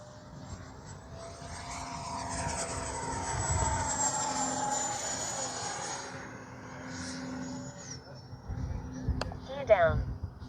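An FMS Integral 80mm electric ducted-fan RC jet flies past, its turbine-like whine rising and falling as it passes near then away, under intermittent outdoor talk and wind noise.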